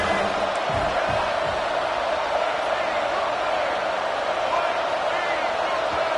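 A Wisconsin Badgers football crowd roaring in a packed stadium during a 3rd-and-short play, a continuous loud wash of cheering with a commentator speaking over it.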